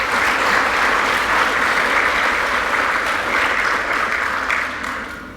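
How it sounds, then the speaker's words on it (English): An audience gives a big round of applause after a talk on cultural and prescribed burning, with loud, sustained clapping from a crowd that fades slightly toward the end. "Big round of applause to Dr. Diana Virkki."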